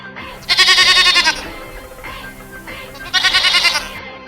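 A sheep bleats loudly and close by in two long, wavering bursts, with a quieter bleat between them, in a home setting during an Eid greeting recording.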